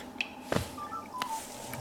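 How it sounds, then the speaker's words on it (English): A mobile phone chimes with a text message notification, a few short, bright electronic tones in quick succession over faint room sound, close by and moderately quiet. "That was my phone going off as a text message."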